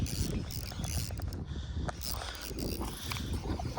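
Megabass Griffin BFS baitcasting reel cranking in a fish at Santa Fe Dam, a steady close ratcheting, whirring mechanism running continuously over faint outdoor background noise.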